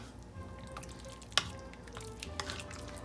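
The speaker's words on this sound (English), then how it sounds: "I'm gonna stir it up." Milk or cream being stirred in a slow cooker, with soft wet sloshing and liquid drips, a sharper click of the spoon partway through, close and quiet, with no talking.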